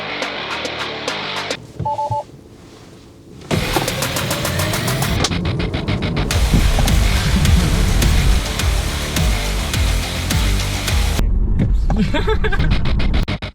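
Tesla Model 3 Performance electric car launching hard from a standstill at full throttle, a loud sustained surge of motor whine and road rumble that builds and holds for several seconds.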